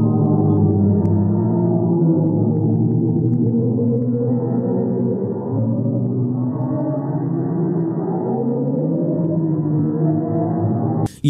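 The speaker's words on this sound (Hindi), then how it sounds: "कुछ लोग मानते हैं कि ये स्पेस में मौजूद ब्लैक होल की आवाज है।" Eerie NASA space recording said to come from a black hole: a continuous low, wavering drone with shifting tonal layers, steady and loud throughout, ending in a brief sharp click.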